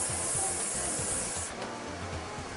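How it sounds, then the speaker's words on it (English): A can of hairspray sprays onto hair in one steady, close, loud hiss lasting about a second and a half, then fades to a quieter background with faint rustling. "You fix it with a little hairspray just to help it stay together."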